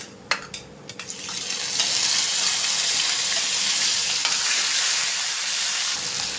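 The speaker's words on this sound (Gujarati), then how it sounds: "અહીંયા આદુ લસણ મરચાંની પેસ્ટ એડ કરી દઈશું" A few clicks and taps come first, then ginger-garlic-chilli paste with cumin, fennel and asafoetida hits hot oil and a loud, steady sizzle swells and holds close up, with no talk, while making a bottle gourd kachori filling.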